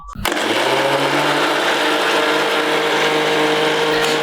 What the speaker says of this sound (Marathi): त्याला फिरवून घेते मिक्सरला बारीक